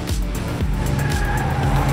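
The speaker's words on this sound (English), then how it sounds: "Oh no, they crashed!" Toy race cars skid and crash, giving a loud, continuous rush of squealing, engine-like drone with sliding tones, filling the whole short burst without talk.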